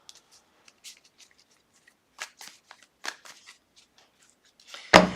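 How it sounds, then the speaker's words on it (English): Tarot cards being shuffled by hand, a run of soft flicks and riffles that builds to a loud, sharp final snap, close and quiet with no talking. "I do two kinds of shuffling."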